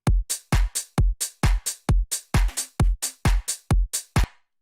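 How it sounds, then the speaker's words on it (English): Basic electronic drum loop for a rage-style production: punchy kicks and snappy hits alternating in a steady, tight pattern, loud and dry, looping for several bars without any talking. "I just came up with the basic drum loop"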